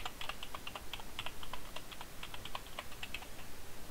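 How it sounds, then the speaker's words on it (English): Rapid clicking of a loud computer keyboard being typed on continuously, a steady patter of close, crisp keystrokes with no voices. "if you have loud keyboards, yeah, that's just my keyboard"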